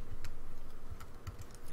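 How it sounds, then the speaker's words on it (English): A few light keystrokes on a computer keyboard, typing a ping command into the Windows command prompt. The taps are soft and scattered over steady low background hum, with no voices. "Then you're going to want to type in ping"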